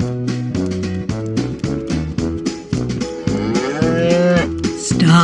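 A cartoon cow in a gingerbread man bedtime story gives a long, loud, drawn-out moo over a busy musical backing.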